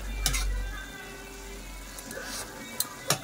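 A pot of Ilocano igado bubbles and sizzles softly on the stove as its liquid cooks down, with a few sharp clinks of utensils against metal.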